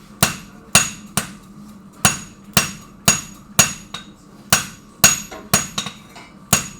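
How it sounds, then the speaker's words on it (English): A blacksmith's hammer strikes hot steel on an anvil while forging tongs, with a dozen or so close, ringing metallic blows in a steady working rhythm, some in quick pairs, and no talking. "I'm hammering straight up and down, and this is a real good visual example."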